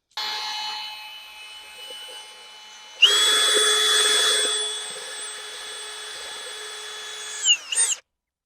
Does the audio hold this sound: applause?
no